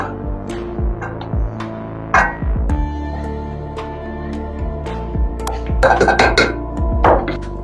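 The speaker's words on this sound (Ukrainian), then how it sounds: "Викидаємо картоплю у більшу посуду." Boiled potatoes tipped from a pot into a larger pot in a home kitchen, making loud clattering metal knocks and thuds in scattered bursts with a ringing pot resonance between them.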